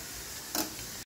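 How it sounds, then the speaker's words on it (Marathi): Bitter gourd pieces sizzle steadily in hot oil in a pan, with a brief louder crackle burst midway before the sound cuts off abruptly. "तर इथे तेल झाले गरम आणि हे कारलं थोडं थोडं टाकणार आहे आणि तळून घेऊया।"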